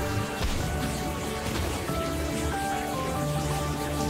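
Heavy rain pours down in a steady, dense, unbroken hiss, close and loud, with faint tonal music lines running over it and no one speaking.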